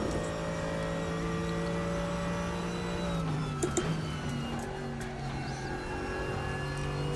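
GT3 race car engine in the racing game RaceRoom, a steady droning whine with harmonic tones that shift pitch midway as the car changes speed, with faint clicks over it.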